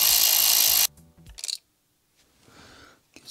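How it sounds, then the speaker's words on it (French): An 8 mm socket wrench undoes the ground screw on the fuel rail of a BMW E46 330i M54B30 engine during valve cover gasket replacement: a loud steady whirring burst, then a few short metallic clicks and rattles, close up. "On va défaire la vis de masse de la rampe d'alimentation."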